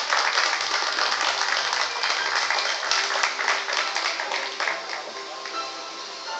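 Wedding guests applaud the newlyweds at a Bulgarian wedding, a dense, steady wash of many hands clapping that holds for several seconds, then eases slightly toward the end.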